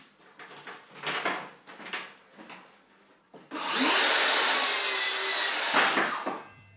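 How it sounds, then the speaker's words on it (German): Wooden boards for wall cladding are cut by a saw, with a few short scraping strokes first, then a louder sustained burst of cutting lasting a few seconds before it stops. "sägt Max schon die ersten Bretter zu"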